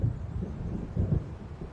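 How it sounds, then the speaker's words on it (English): Low rumbling thunder from an approaching storm in the Alan Wake video game, a continuous deep roll with swelling bursts, moderately loud and without talk. "It seems there's a storm coming."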